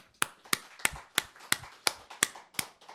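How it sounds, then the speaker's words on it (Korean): A church worship congregation claps in praise: nine sharp, evenly spaced claps in a steady rhythm, fairly close and quiet, with no talk. "박수로 찬양합니다"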